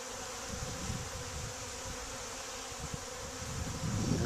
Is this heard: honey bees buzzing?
yes